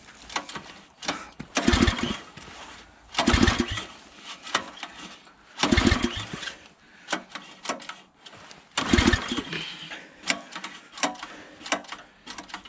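A log splitter's small gas engine is pulled over repeatedly, each pull a short burst of mechanical sputtering and clatter, about five tries separated by quieter pauses, close and alone.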